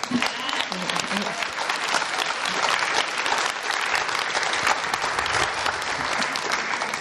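Sustained, dense applause from a large audience at an evening event honoring Afghan women, loud and steady throughout with no gaps.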